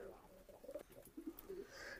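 Soft, low pigeon coos arrive in short bursts, with a Chinese-breed male pigeon among the birds, fairly faint and close with a quiet background.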